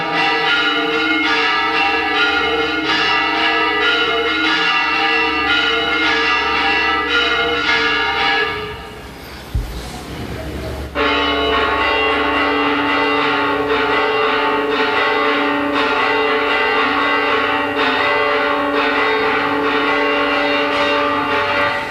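Church bells in Spain ring steadily and loudly in layered, overlapping peals at a bell ringers' gathering, briefly dropping out midway before the full ringing resumes.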